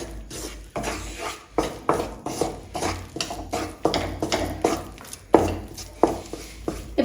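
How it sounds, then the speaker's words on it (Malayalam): Maida flour is stirred into hot ghee in a pan for a milk-based sweet like palkova or maida barfi, with a spoon scraping and pushing the mixture in a close, repeated, uneven rhythm of soft strokes and knocks. "ഇനി ഇതിലേക്ക് നമുക്ക് 1/2 കപ്പ് അളവില് മൈദ ചേർത്തിട്ട് കൊടുക്കാം. നല്ലതുപോലെ ഒന്ന് മിക്സ് ചെയ്തിട്ട് കൊടുക്കുക."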